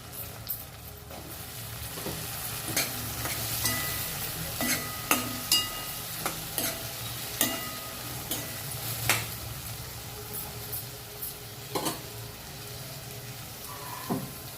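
Eggplant pieces fry with turmeric in a pan, a low steady sizzle punctuated by frequent clicks and scrapes from stirring, close by and with no speech.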